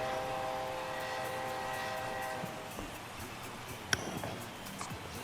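Home run train effect at Union Station in MLB The Show 22, a sustained horn-like whistle tone with rail rumble fading out, followed by a sharp clack, no speech.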